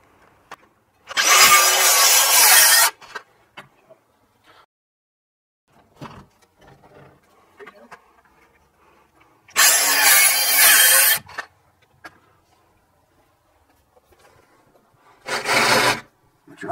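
A reciprocating saw (Sawzall) cuts through pergola wood in three separate loud, harsh bursts of rapid rasping strokes, each lasting a second or two, with quiet pauses in between.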